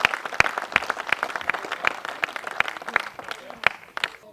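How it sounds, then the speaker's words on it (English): A crowd claps in steady applause at a match fishing final, a dense patter of hands from many people, fairly loud and even throughout. "Give him a round of applause."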